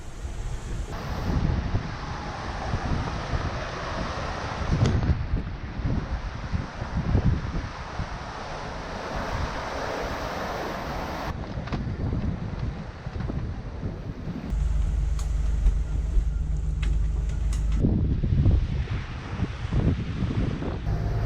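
Steady wind rushing over a Lagoon 50 catamaran sailing the Atlantic in light breeze, with a continuous broadband roar, gusty swells and water wash against the hull, and a low rumble joining in near the end.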